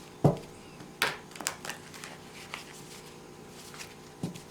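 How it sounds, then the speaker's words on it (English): A tarot deck being shuffled by hand, with several sharp riffling and tapping bursts separated by quieter rustling, close up and moderately quiet with no voices. "Just 1 minute so that I can shuffle."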